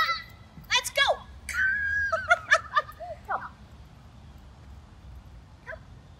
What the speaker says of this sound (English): I have one very dirty dog.